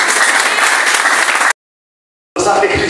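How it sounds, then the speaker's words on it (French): A church congregation breaks into loud, dense applause, cut off abruptly by a stretch of silence before clapping resumes just as strongly. "Applaudissez Seigneur"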